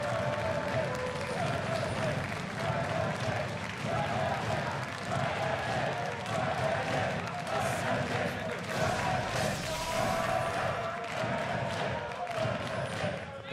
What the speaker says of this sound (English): The crowd beats out a nice rhythm there.